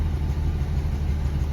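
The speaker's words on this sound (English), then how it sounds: "There's also a cylinder dropping out." A 1982 Dodge W150 4x4 pickup's slant six engine idles close by with a low, steady rumble, one cylinder misfiring and giving the beat a slight unevenness, alone without talk.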